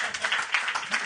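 Audience applause and clapping from a crowd at a live podcast recording, a steady dense patter of many hands lasting about a second, fairly loud and close, with a few voices mixed in.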